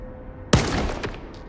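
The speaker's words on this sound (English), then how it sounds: "before I shoot this guy in the face" A gun fires in the S.T.A.L.K.E.R. 2: Heart of Chornobyl video game: one sharp, loud shot after a quiet moment, then a fainter second crack as the echo fades, with no voices.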